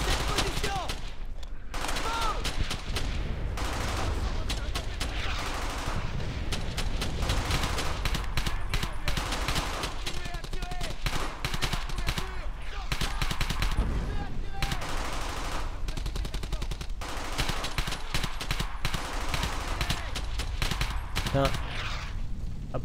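Sustained gunfire sprays through the World War II shooter Brothers In Arms: Hell's Highway, with dense bursts of automatic weapons and rifles crackling continuously over a battle din, and short gaps between volleys.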